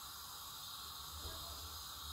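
Olive oil heats in a hot pan, giving a faint, steady hiss that runs unbroken and alone, close and quiet, with a low hum beneath.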